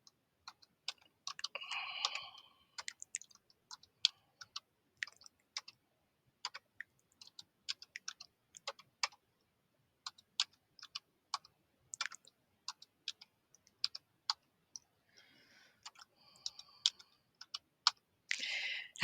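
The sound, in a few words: typing numbers on a computer keyboard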